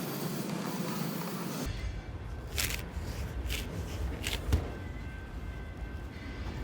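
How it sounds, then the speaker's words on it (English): A razor knife drawn through foil-backed foam board with sawing strokes, giving faint scratchy rasps and a few brief crinkling swipes over a steady background hiss. "Using your razor knife, holding it nice and plumb, cut just like you cut bread all the way down the line"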